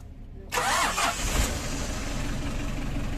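A vehicle engine cranks and catches after a brief quiet moment, then settles into a steady, rumbling idle nearby.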